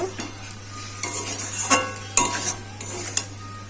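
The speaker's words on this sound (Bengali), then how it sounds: "লঙ্কার গুঁড়ো, হলুদ গুঁড়ো, জিরের গুঁড়ো দিয়ে দিয়েছি, দিয়ে মশলাটাকে কষিয়ে নেব" Chili, turmeric and cumin powder masala sautés in a pan for a shrimp and taro dish: a steady soft sizzle under repeated scraping stirs, close by, over a low background hum.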